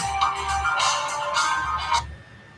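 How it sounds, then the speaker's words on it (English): A mobile phone ringtone plays as a repeating melodic pattern of bright tones in several bursts, fairly close and loud, then cuts off, with no talking over it. "Should have turned the phone off there, shouldn't I?"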